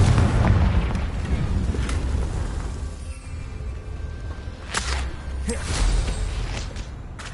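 A Confringo blasting curse from Harry Potter goes off as a series of loud booming blasts, with deep rumbling and sharp bursts of crackle toward the end.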